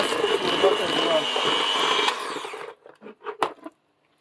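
A kitchen mixer beats butter or margarine for a sponge cake, a steady close whirring motor hum that runs for over two seconds, then cuts off, leaving a few short clatters and scrapes.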